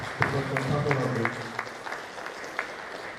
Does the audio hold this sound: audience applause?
yes